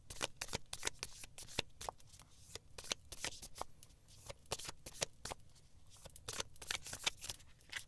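A deck of cards, read as the card for the week, is shuffled by hand in quick, crisp riffles and snaps that repeat steadily throughout, close and fairly quiet, with no talking.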